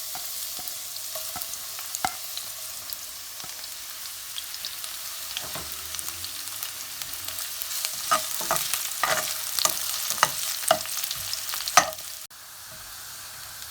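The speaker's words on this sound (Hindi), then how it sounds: "अब हम इसमें प्याज डाल के हल्की सी फ्राई कर लेते" Onions frying in a pan of hot oil, a steady sizzle with intermittent stirring scrapes and clicks growing busier toward the end, close and alone without talk.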